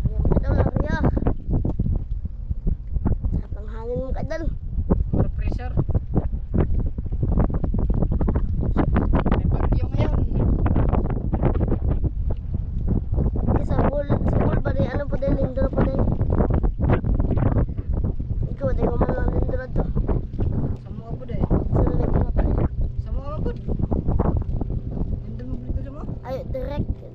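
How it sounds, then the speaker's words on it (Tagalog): Wind blowing hard across a small boat out on the water, with heavy gusty buffeting against the microphone that continues throughout while people talk over it. "Sarap ng hangin"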